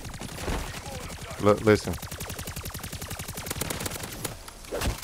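A weapon fires rapidly in MW3 Zombies, a steady stream of close, evenly spaced shots that keeps going for several seconds while someone talks over it.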